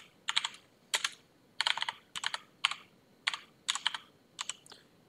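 Keystrokes on a computer keyboard while entering a DHCP range setting on a Fedora Linux system, arriving as about nine short bursts of several quick clicks each, clear and close with nothing else in the background.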